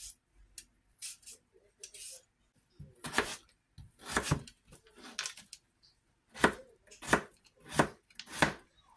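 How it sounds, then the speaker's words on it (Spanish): Sharp knife finely chopping vegetables on a cutting board, in short irregular bursts then a steady run of four evenly spaced, louder strikes. "Voy a estar picando toda la verdura"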